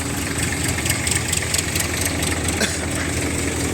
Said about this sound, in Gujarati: ટ્રેક્ટરના આરપીએમ રહેશે નવસો આરપીએમ